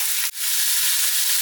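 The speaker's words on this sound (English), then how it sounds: "sizzling away nicely" Pork chunks browning in olive oil in a pot give a bright, steady, close sizzle, interrupted by one brief clatter.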